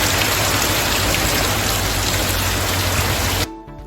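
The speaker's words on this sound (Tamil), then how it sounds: "1 மணி நேரத்திற்கும் மேலாக மழை பெய்தது" Moderate rain falls steadily in Kodaikanal, a dense, close hiss of drops spattering on surfaces that holds even for several seconds before dropping away abruptly at the end.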